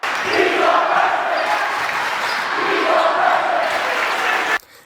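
A basketball crowd roars for a dunk, dense loud cheering that holds steady for several seconds, then cuts off abruptly near the end.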